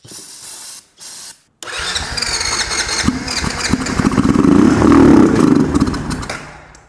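An ATV engine turns over on its electric starter, with two short whirring cranks that then catch and fire into a loud, close, steady running idle that fades slightly at the end.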